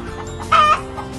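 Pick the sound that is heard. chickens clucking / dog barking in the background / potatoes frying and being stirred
chickens clucking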